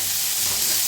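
Tomatoes and onions roasting together in a hot pan for a vegetable curry, giving a steady, close sizzling hiss that runs unbroken with no voices over it.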